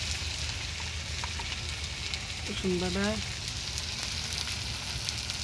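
Tomato sizzles in hot oil with ginger-garlic paste, a steady moderate crackling hiss that holds throughout, broken by one brief voiced sound partway through.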